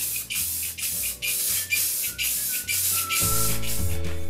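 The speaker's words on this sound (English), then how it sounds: "spray some matte clear on it," Matte clear coat hisses from a spray can in quick repeated bursts, each short press separated by a brief pause, close and loud with no talking.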